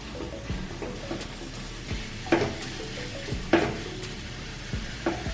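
Ground beef sizzles steadily in hot oil with spices while a utensil stirs and scrapes the pan in several distinct strokes, close and moderately loud, with no talking.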